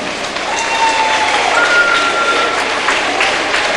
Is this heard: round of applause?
yes